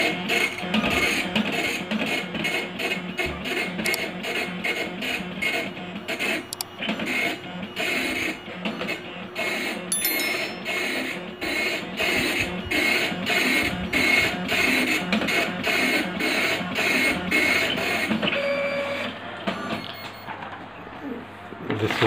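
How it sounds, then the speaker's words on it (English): A passbook printer runs its self test continuously with rapid mechanical chattering and buzzing bursts, fairly loud and close, with a short pause near the end. "This is the self test of the printer."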